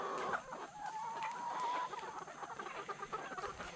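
A loose layer hen out of its pen clucks in a run of quick, fairly close calls, with a slightly drawn-out cackle in the middle, in an otherwise quiet outdoor setting.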